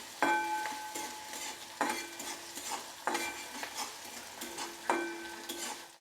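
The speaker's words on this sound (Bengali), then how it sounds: "এবার এর মধ্যে আমি দিয়ে দেবো একটা বড় সাইজের পেঁয়াজ কুচি করে রেখেছিলাম, সেটা দিয়ে দিচ্ছি। দিয়ে এটা একটা পেঁয়াজটা ব্রাউন কালার করে আমি হালকা ব্রাউন কালার করে ভেজে নেব।" Chopped onion fries in oil toward light brown, with a soft sizzle under repeated metal spoon strokes against the pan that ring out in four clear, evenly spaced bursts.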